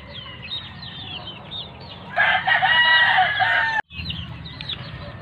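A rooster crows loudly and at length over steady clucking from a flock of hens in a small backyard chicken coop, followed by more clucking and chatter.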